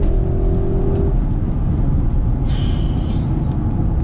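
A car engine roars steadily under strong acceleration, a loud continuous low rumble with a brief whine rising above it near the end.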